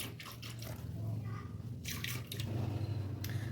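Water poured from a grinder jar into a cooking pot, rinsing out leftover yogurt, heard as uneven splashing bursts and trickles close by, with no voices.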